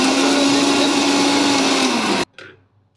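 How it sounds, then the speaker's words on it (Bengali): A mixer grinder whirs loudly at high speed as it grinds pan-roasted garam masala, a steady motor drone and rattle that stops sharply and spins down into a brief clatter. "গরম মশলাটা গুঁড়ো করা হচ্ছে।"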